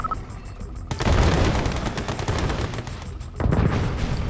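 Gunfire and explosions erupt in a base attack in the real-time strategy game Yuri's Revenge, a dense, loud barrage of shots running almost without pause after a short lull, surging again near the end with no one talking.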